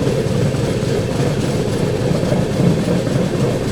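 A Patna–Udhna special express train rolls past close by with a steady, loud, low rumble of wheels and railcars and faint clickety-clack, continuous throughout with no talking.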